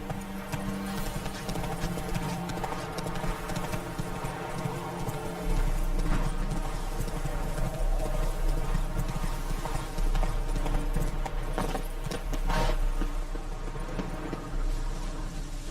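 Roach the horse trots in The Witcher 3 with steady, rapid clip-clopping hooves over a continuous ambient game backdrop, alone without speech.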